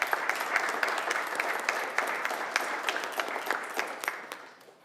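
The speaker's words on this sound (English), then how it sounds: "Please give them a round of applause." Applause rises at a city council meeting in Waukegan, a full room clapping steadily with crisp individual claps before it tapers off at the end.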